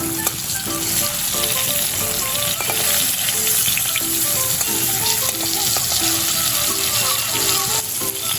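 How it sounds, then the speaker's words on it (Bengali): Loud, continuous sizzling of koi fish frying in hot oil, crackling and spitting steadily throughout with occasional faint stirring. "2 ব্যাচে আমি এই মাছগুলো ভেজে নেব"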